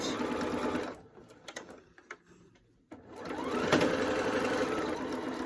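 A sewing machine stitches a fabric mobile phone pocket, a steady mechanical whir that stops for a moment of quiet handling and then runs again, close and fairly loud with no talk.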